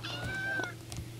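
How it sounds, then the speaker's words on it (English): A single cartoonish cat meow sounds in a Roblox simulator game, a short rising-falling tonal cry over a low steady hum, fairly quiet with no talking. "I just heard a meow."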